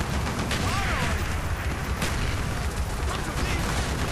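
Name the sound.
air support strike explosions on tank, video game Call of Duty: Black Ops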